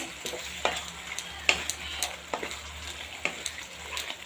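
Valor bean curry is stirred in a pan, a soft background sizzle punctuated by repeated scraping and tapping strokes of the spoon at an irregular pace.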